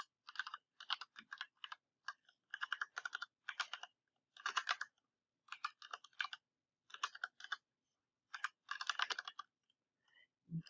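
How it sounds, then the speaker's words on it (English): Bursts of fast typing on a computer keyboard while entering HTML, quick close clusters of clicks separated by short pauses, quiet and with no voices. "you get your quotes, and you type it in."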